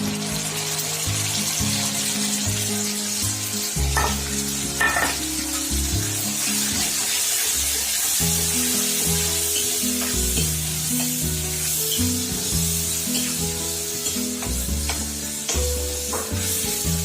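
Tomato puree stirred into browned onions for a spicy chicken curry, sizzling and frying loudly in a pan with steady scraping spoon strokes throughout.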